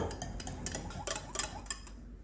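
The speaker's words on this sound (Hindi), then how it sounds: "दही को फेंट लेंगे।" Yogurt is whisked in a bowl with a utensil, producing a quick run of light, rhythmic clicks and scrapes, close and fairly quiet, ending abruptly.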